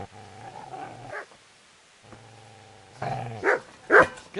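In the video game Kingdom Come: Deliverance, a dog growls low, falls silent, growls again, then lets out a few sharp barks and yips, close and moderately loud, with no talk over it.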